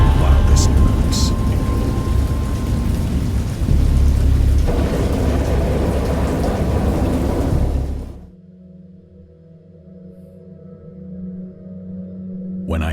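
A violent thunderstorm with heavy rain and rolling thunder roars loudly and close for about eight seconds, then cuts abruptly to a quiet low rumble that slowly swells again.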